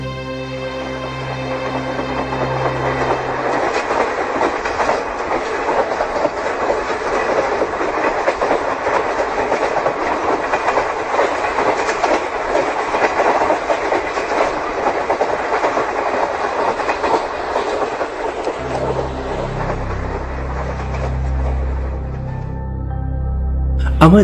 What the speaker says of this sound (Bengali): ঘরের জানালা দিয়ে বা ছাদের ওপর দাঁড়িয়ে ট্রেন যাচ্ছে দেখতে আমার খুব ভালো লাগে